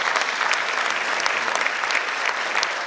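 Crowd clapping at an award event in Bacau, a bright, continuous patter of many hands that stays even and fairly close for the whole stretch, with no talk over it.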